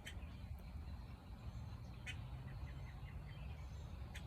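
Ducks quacking faintly at a distance outdoors, a few scattered calls over a soft, steady background hum with no talking.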